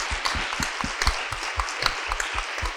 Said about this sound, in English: I think we owe her a great round of applause